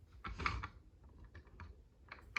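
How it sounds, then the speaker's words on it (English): A few crisp plastic clicks and snaps as parts of a Transformers Soundwave toy click into place, close by and quiet, in short irregular bursts. "sliding it into these two holes while clicking it into place"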